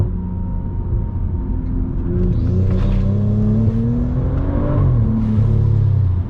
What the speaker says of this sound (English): She downshifted hard.